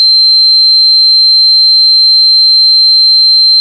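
A homemade door security alarm gives a loud, steady high-pitched electronic tone that holds unbroken for several seconds and then cuts off abruptly.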